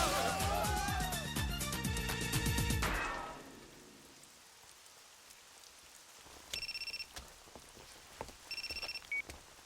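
Rain falls during a rainy downhill race scene in the Initial D First Stage anime, after a burst of music. The steady hiss of rain continues under a repeating phone ringtone.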